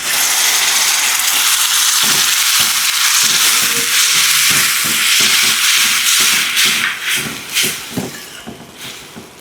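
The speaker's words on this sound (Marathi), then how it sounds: "आणि आता थोडंसं पाणी." Water hitting a pan of spiced potato curry, a loud continuous hiss and sizzle with rapid scraping and clattering from stirring, easing off near the end.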